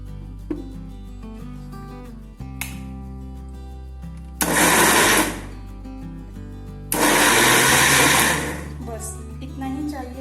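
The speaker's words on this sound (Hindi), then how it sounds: "अब हम इसे मिक्सी में डाल देंगे और इसे पीस लेंगे।" A kitchen mixer grinder runs in two short loud bursts, coarsely grinding soaked soya chunks for soya vada, with quieter pauses and a low steady hum between pulses.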